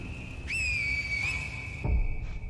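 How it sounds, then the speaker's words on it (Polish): A sharp, high, sustained whistle rings out in the video game Sekiro, steady with a brief rise in pitch, over a low rumbling ambience and a thud near the end. "Więc gwiżdżemy."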